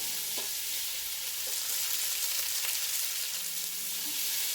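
Onions and garlic sauté in butter in a pot for a cube steak dinner, giving a steady, even hiss with a few faint scrapes, close and continuous, with no talking.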